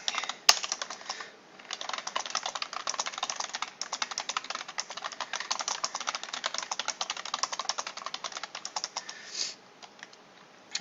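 Rapid, continuous clicking of a computer keyboard as a message is typed, crisp and close, with a couple of short pauses between bursts of keystrokes.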